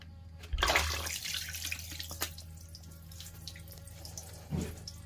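Water drains from under the vacuum chamber seal of a milking machine, a gush followed by trickling and drips, close and fairly quiet with no talk.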